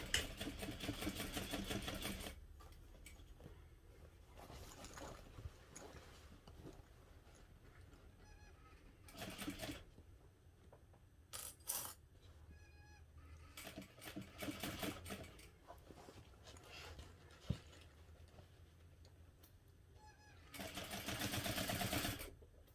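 A sewing machine back stitches across a connector on a backpack, its motor whirring in short bursts separated by quiet pauses and small handling clicks, fairly faint and close with no talking.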